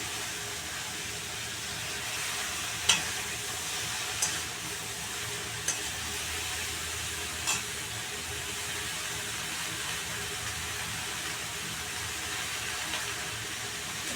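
A low, steady sizzle of tomato and eggplant frying in a pan for a Garhwali recipe, with a few faint clinks of stirring over the constant hiss.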